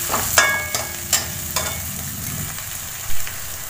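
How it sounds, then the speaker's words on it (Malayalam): Ginger garlic paste and spices for aloo mutter masala sauté loudly in a pan, with a few sharp scraping stirs and clinks over a continuous hiss, close and alone. "അത് നന്നായിട്ടൊന്ന് വഴറ്റി കൊടുക്കാം"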